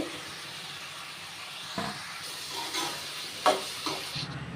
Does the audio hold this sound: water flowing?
no